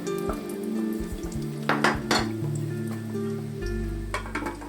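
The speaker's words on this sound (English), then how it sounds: "Let's get them started with a bit of oil in the pan." Frozen potato puffs sizzling in hot oil in a pan, with bursts of crackling and some clinks of cookware, steady and close with no talk.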